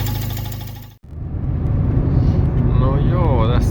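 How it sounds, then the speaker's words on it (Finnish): A Fiat with a swapped FIRE 1.4 8V engine runs on a test drive, a steady mid-pitched engine drone and road rumble after a brief cut, with someone talking over it. "tässä ollaan nyt ekalla testiajolla"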